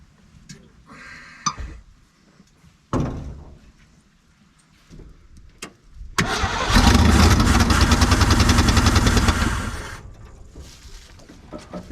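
An old vehicle engine that sat in a barn for over twenty years, fed a splash of gas into a dry carburetor bowl, makes scattered clanks and a sputter before roaring briefly for several seconds and then dying out.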